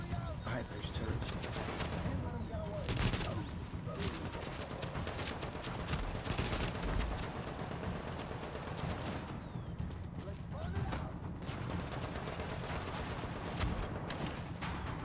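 Turrets fire in repeated heavy bursts during a fight in the shooter video game The Division, with rapid gunfire rattling almost continuously and a few louder peaks.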